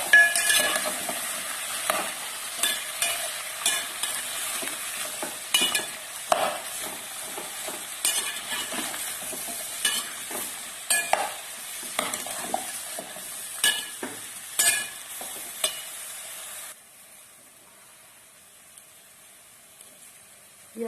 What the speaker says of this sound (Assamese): ভালদৰে লৰাই দিম।